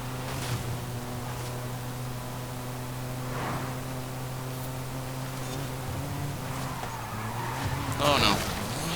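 BMW M3 Competition Sedan racing in Forza Horizon 5, steady engine drone with tire skids and a sharp scraping knock near the end as the car strikes the curb, quiet overall.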